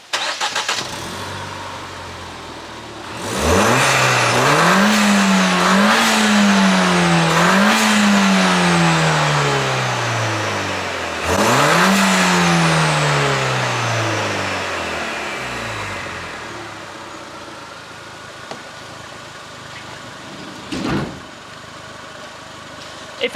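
Ford Fiesta ST180 fitted with a GFB DV+ diverter valve: the engine starts, then revs in two strong rising and falling sweeps, settling into a steady idle with a brief blip near the end, heard close by.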